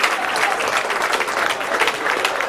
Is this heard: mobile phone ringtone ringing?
no